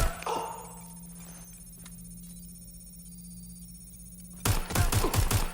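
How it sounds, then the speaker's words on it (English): Gunfire erupts in Watch Dogs: Legion, set in a futuristic, chaotic London: a quiet ambient stretch gives way to loud, rapid automatic bursts near the end. "Taking fire!"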